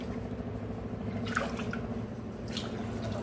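Water splashes and trickles steadily into a pressure cooker at close range, a continuous wet pouring sound with a few brighter drips.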